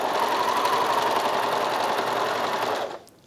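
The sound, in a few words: Bernina 1100DA serger overlocker running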